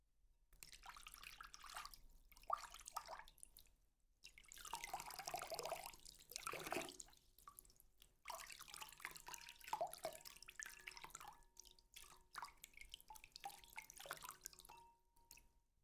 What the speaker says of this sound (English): I've also got a really big bowl of water, and I'm just going to use my hands and see if I can make different sounds